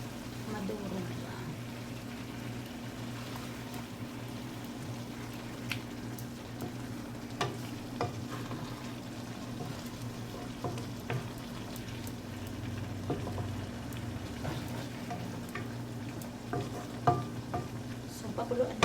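A spoon stirring tofu gently through soup in a pan makes soft, scattered scraping and clicking sounds over a steady low simmer and kitchen hum, with occasional louder taps toward the end.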